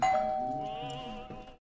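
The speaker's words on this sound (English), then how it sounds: "Or I thought I heard a bell." A doorbell chimes in the game 12 Minutes, a single bright sustained tone with ringing overtones that decays over about a second and a half, loud and close, with no speech.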